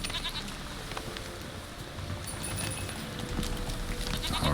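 A goat in The Witcher 3 bleats faintly over steady game ambience, with brief wavering cries that grow slightly louder toward the end.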